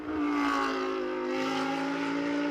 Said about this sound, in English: What an engine sound. It is just phenomenal.